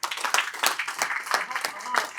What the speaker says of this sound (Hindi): हो जाए तालियां जोर की जरा.